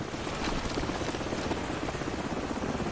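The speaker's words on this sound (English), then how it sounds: "The helicopter's back." A helicopter in the video game Call of Duty 4: Modern Warfare, its steady rotor chop and engine roar loud and continuous throughout, with no talk.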